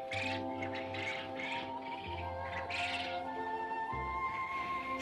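Waterbirds call at the Mundok migratory bird wetland reserve in North Korea: fairly faint, overlapping tonal cries and chirps repeat against a quiet background, with no talking.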